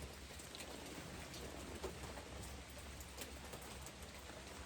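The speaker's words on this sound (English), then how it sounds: "so it's been raining and overcast" Steady rain falling, a dense constant hiss with scattered drops tapping on surfaces and no voices.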